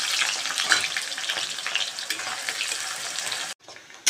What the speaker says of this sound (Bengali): কড়াইতে তেল গরম হয়ে গেছে, এবার কুচিয়ে রাখা পেঁয়াজটাও দিয়ে দিচ্ছি।